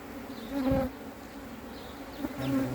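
Honeybees buzz around an old hive during a transfer to a new brood box, a close, continuous droning hum that swells and fades as individual bees pass near.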